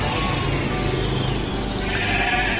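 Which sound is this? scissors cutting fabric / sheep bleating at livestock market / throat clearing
sheep bleating at livestock market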